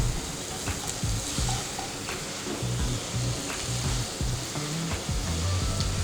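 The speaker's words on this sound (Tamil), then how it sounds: "இஞ்சி பூண்டு பேஸ்ட் நல்லா வதக்கினதுக்கப்புறம் தக்காளி ஆட் பண்ணலாம்." Ginger garlic paste and tomatoes fry for a Dindigul mutton curry, giving a steady close sizzle with soft stirring and scraping in the pan throughout, and no voices.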